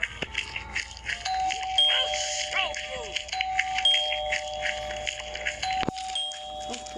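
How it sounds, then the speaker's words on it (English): A household doorbell chimes repeatedly in short tones, mixed with voices talking nearby and a sharp knock or thud near the end. "I just ring the doorbell like so much times."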